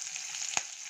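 Garlic, green chilli, curry leaves and asafoetida sizzle steadily in hot oil for tomato chutney, a bright continuous hiss with one sharp pop midway.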